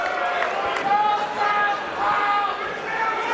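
Rowdy comedy club crowd cheering and hollering, loud overlapping voices and shouts filling the room in swelling waves, with whoops rising above the babble.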